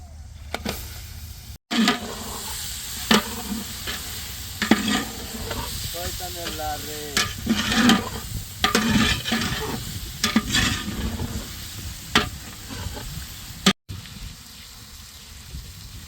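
Fish fried in a pan with turmeric, chili, salt and cumin powder for a fish curry sizzles steadily while a utensil stirs and scrapes it in repeated close strokes, the frying continuous throughout.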